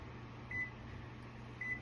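A kitchen timer is set for eight minutes while okra is being canned, giving two short, bright electronic beeps about a second apart over a low, steady kitchen hum.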